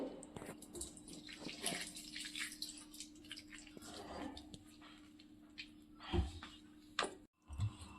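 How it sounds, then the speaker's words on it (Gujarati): Five hundred grams of coconut oil is poured into a large iron wok while making amla hair oil. A soft liquid pour with drips and small knocks sits close by, with speech around it. "આપણે આ પાંચસો ગ્રામ તેલ નાખ્યું છે કોપરેલ"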